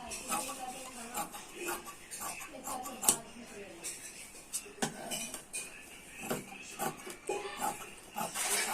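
Scissors snip through blouse lining fabric in a run of crisp, uneven cuts at close range, with quiet talk in the background.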